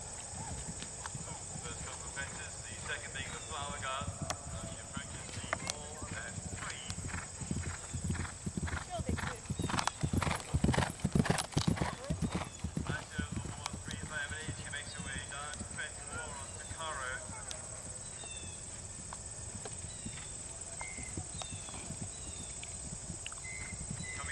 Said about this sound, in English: Number 189, Emily Maynolfi, riding to Caro. First couple of fences, the second being the flower garden